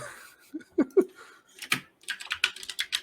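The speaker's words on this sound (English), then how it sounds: "Bro, you type so hard. My keyboard is loud, okay?" Rapid, loud keyboard typing with sharp clicky keystrokes in quick bursts, preceded by a few lower thumps.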